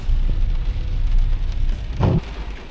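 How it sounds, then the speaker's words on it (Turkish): Heavy rain hammers on a car while someone sits inside, a dense, loud drumming across the roof with a sudden deeper thump near the end, and no voices. "Yağmur da bir yandan bastırıyor."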